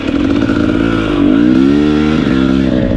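A 2021 KTM 250 XC TPI fuel-injected two-stroke dirt bike engine runs loud and close, its buzzing tone holding steady before a brief rise in revs around the middle, then settling back to an even drone.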